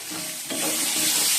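Bombay duck fish sizzling in hot oil in a kadai while being stirred, a steady frying hiss that swells louder about halfway through, with scraping stir sounds and no talking.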